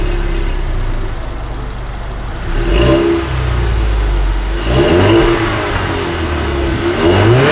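A 2016 Ford Mustang EcoBoost's turbocharged engine is revved several times at idle, each blip rising and falling, loud and close over a steady exhaust rumble.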